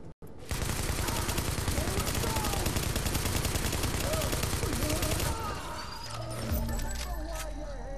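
Automatic gunfire in the video game The Division rattles in dense sustained bursts for about five seconds, then eases into scattered shots and game effects.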